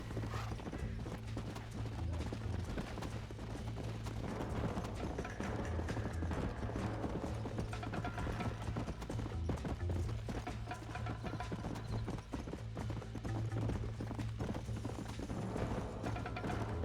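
Horse hooves clip-clop steadily in Red Dead Redemption, a regular walking rhythm that runs throughout beneath a dense, busy bed of game music and ambience.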